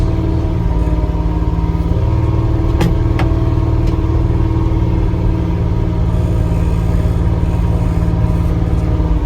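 A vehicle, likely a farm tractor or utility vehicle, drives steadily with a continuous mid-range engine drone and a couple of brief clicks, loud and close throughout with no talking.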